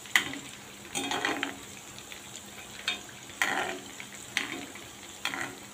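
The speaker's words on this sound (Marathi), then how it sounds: "मीडियम गॅसवर चांगलं फ्राय करून घेऊया" Long and thick green chillies for Rajasthani mirchi pakoda fry in oil over medium heat, a continuous close sizzle broken by regular stirring scrapes about every second.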